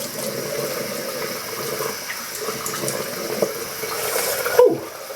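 Cold water running from a tap at a bathroom sink before shaving, a steady close hiss and splash with a brief clunk near the end.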